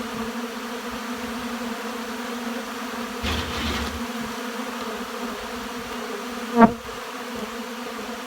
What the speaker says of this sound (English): there's a wave of bees in front of the barrel here